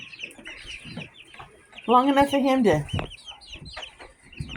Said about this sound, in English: these are our little chickies